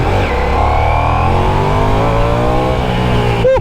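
A Ducati Diavel V4 motorcycle with its standard exhaust runs a loud, close engine note that rises and falls steadily in pitch, like a sustained rev, and ends with a brief sharp noise.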